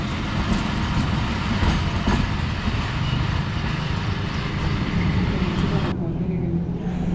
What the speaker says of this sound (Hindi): सारी इकानमी क्लास की कोचेज़, और ZC20 ने नाच अप कर लिया